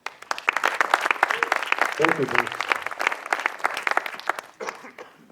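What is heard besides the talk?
audience warm round of applause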